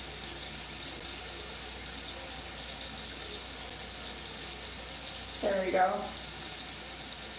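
Tap water runs steadily over loose curly, wavy hair, wetting it at the roots with a soft, continuous hiss. A voice speaks briefly near the end.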